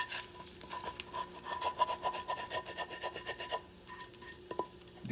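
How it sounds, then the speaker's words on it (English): Cooked codfish scraped and pressed through a wire mesh strainer, giving a steady run of rough rasping strokes at close range, with a brief clink near the end and no talk. "you transfer it to one of those wire mesh strainers and you scrap a little bit"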